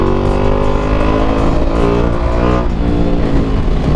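A Ducati Multistrada V4S motorcycle engine roars steadily on an expressway, loud and continuous throughout with strong rising harmonics as it accelerates, no talking over it.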